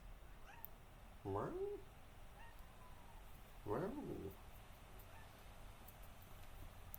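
A pet cat named Deirdre gives two short chirping meows a few seconds apart, close and clear over a quiet room background, while a person softly says a brief word.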